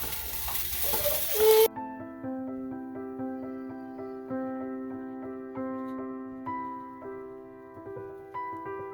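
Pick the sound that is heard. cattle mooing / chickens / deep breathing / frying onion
frying onion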